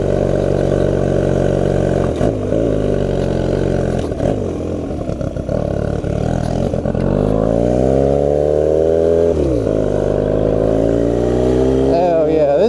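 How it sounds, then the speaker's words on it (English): An old Honda Rebel motorcycle converted into a dirt bike, fitted with a new clutch, its engine running loud and close with rising and falling revs and shifting pitch, under wind noise and someone speaking over it. "Man, this old bike sounds so good."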